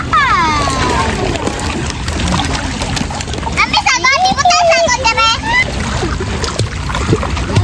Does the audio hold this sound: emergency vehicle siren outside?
no